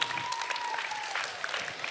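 Brief audience applause at a school spoken word poetry competition, a steady wash of clapping lasting under two seconds, moderately loud and even.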